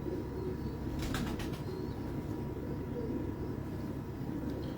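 A pigeon arriving with a short burst of wing flaps around the one-second mark, faint against a steady outdoor rumble.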